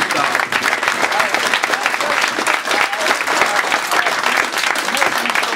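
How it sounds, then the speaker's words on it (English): At the 2009 NPF Championships opening, a crowd gives the card room team a sustained round of applause, loud continuous clapping with scattered voices mixed in. "Let's give them a round of applause now"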